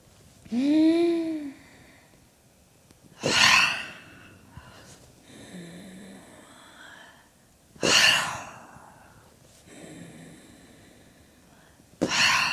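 Slow, deliberate breaths during a gentle somatic movement exercise: a voiced inhale near the start, then long airy exhales and inhales spaced a few seconds apart, close to the microphone with quiet pauses between.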